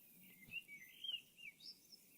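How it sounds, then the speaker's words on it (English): Small birds chirp and tweet in short, faint calls over a quiet ambient bed in a game garden scene, with no voices present. "Bye bye birds."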